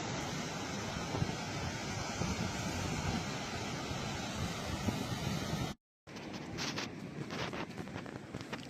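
Strong wind buffeting a microphone on a windy Oregon beach, a loud, continuous rumbling roar that cuts out briefly and then returns with surf noise.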